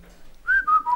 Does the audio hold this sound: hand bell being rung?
no